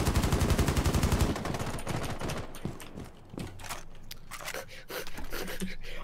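Rapid automatic gunfire in Rainbow Six Siege aimed at a shield, with a loud close burst of evenly spaced shots at the start, followed by scattered shots, clanks and impacts under game noise.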